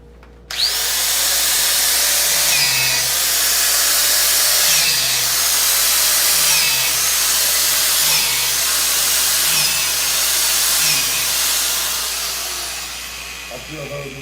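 A power drill whines steadily and loudly for several seconds as it bores into a log for growing shiitake mushrooms, with a short quiet start and the motor easing off at the end.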